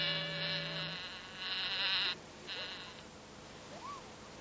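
A giant cicada in an Italian cartoon gives a loud, shrill, wavering buzz in several bursts, with short pauses and a brief rising chirp near the end.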